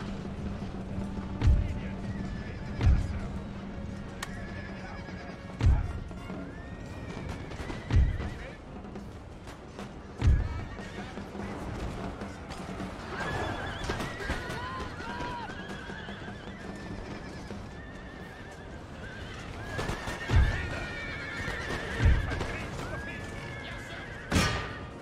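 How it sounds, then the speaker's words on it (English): Horses neigh and whinny during a battle in Empire: Total War, repeated whinnies over a busy mix of thuds and distant cannon and musket fire. "I've only got one horse and one line infantry left after this"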